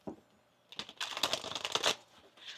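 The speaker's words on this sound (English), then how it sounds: "One more shuffle." A deck of tarot cards is riffle-shuffled up close, a brief flick followed by a dense, crisp burst of fluttering card clicks lasting about a second, then a soft tap as the deck settles.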